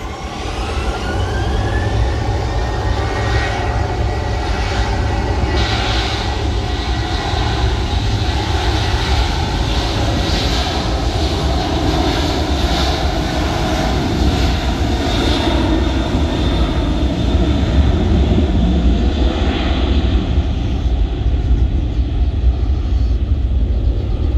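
An Airbus jet airliner at Sultan Hasanuddin International Airport, Makassar, roars loudly and steadily as its engines spool up for takeoff, a sustained powerful rumble with rising whine.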